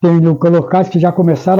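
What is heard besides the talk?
No everyday noise stands out behind the speech.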